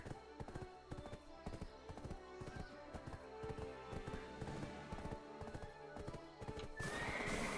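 Horse hooves clip-clop in a steady repeating rhythm in Black Desert Online, with a whinny near the end; the footfalls are loud and close, with no talk over them.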